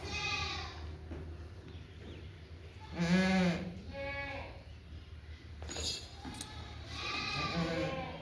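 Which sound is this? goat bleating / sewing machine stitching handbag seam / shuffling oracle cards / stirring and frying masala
goat bleating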